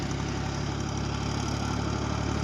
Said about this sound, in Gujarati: હવે શેઠનું ટ્રેક્ટર આવે છે આ બાજુ।